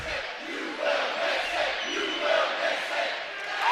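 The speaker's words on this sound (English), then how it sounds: "And the crowd begs him to miss, and he does" Utah State Aggie home basketball crowd chanting in unison during an opponent's free throw, a loud, rolling mass of voices swelling and falling rhythmically in an arena.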